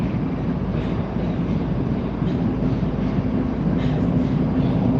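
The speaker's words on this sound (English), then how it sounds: "This is just an older train." An older Moscow metro train in motion fills the car with a steady, loud low rumble and roar, a constant drone that holds for the whole stretch and has no clear voices over it.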